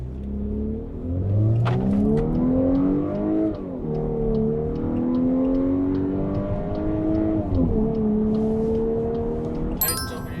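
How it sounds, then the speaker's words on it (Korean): A Volkswagen Atlas large SUV with a 2-liter turbo engine accelerates hard from inside the cabin toward 100 km/h, the engine note climbing steadily with two clear gear shifts, loud and close, with no talking. "여기서 시속 100km까지 가속을 한번 해볼게요"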